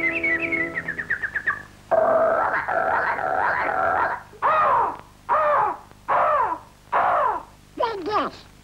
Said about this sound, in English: Why, the birds are singing.